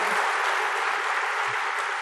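A ceremony audience claps continuously, a dense, even wash of many hands at moderate loudness lasting the full moment, with a faint low murmur beneath.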